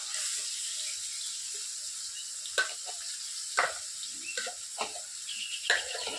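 A tadka tempering sizzles for paneer bhurji made from fresh homemade paneer, a faint steady hiss with a few soft stirring clicks and spoon taps close by, with no talking.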